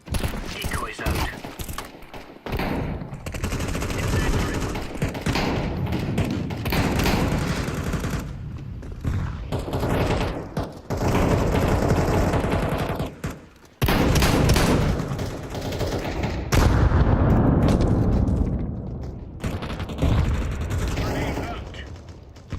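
Decoy grenades in Counter-Strike 2 fake gunfire with loud, rapid bursts that sound like automatic weapons, mixed with other shots, mechanical clatter and booms. Pauses break the bursts, and radio voice lines sound over them at times.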